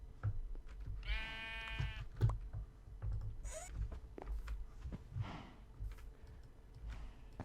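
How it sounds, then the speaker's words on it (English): A sheep in Minecraft gives a single clear, nasal bleat, followed by scattered soft clicks and shuffling game noises against a quiet background. "You're a pretty naughty sheep as well."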